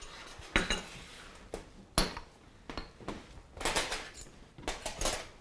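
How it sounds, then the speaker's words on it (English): Homemade tortilla chips are laid out in a zigzag on a baking pan, giving a series of light, scattered clinks and taps on metal at an irregular pace, close and fairly quiet. "So I'm going to put these on the pan."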